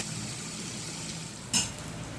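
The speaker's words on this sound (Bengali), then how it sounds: "দিয়ে দেবো টমেটো কুচি, কাঁচা লঙ্কা কুচি। ভালো করে মশলাটা কষিয়ে নেব।" Spice paste with chopped tomato and green chili sautéing in a pan, a steady low sizzle throughout with one brief clink of a utensil near the end.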